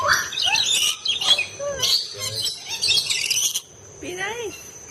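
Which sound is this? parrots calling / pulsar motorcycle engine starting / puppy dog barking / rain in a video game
parrots calling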